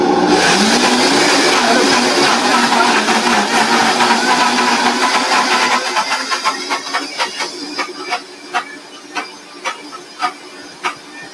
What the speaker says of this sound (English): just throwing those, those chocolate things in the blender